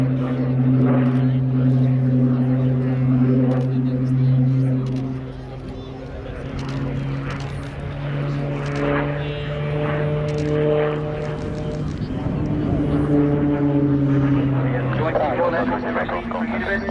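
Propeller drone of an aerobatic aircraft pulling a stall turn at Cosford Airshow, a loud steady engine tone that sags briefly mid-turn and then swells again, with a public-address announcer talking over it.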